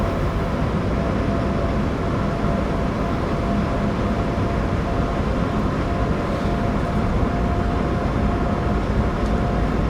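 Steady, loud rumble of a Vectron electric locomotive hauling Talbot coaches at around 200 km/h on the Kinzigtalbahn between Frankfurt and Fulda in Train Sim World 5, a continuous rolling drone with no pauses.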